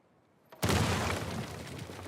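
Dynamite goes off in Uncharted 4, a sudden loud blast after half a second of quiet. A rumbling, crackling roar follows, slowly fading with no voices.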